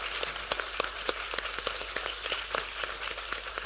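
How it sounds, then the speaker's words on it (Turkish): Steady applause from an audience at a Turkish media event, a dense wash of clapping with scattered sharper claps throughout, moderately loud and continuous with no talk over it. "ben büyük bir alkış istiyorum"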